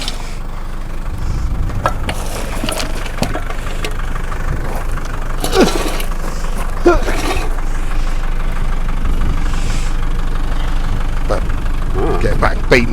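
A car engine idles steadily, a low continuous rumble with occasional clanks and knocks, while someone talks over it nearby.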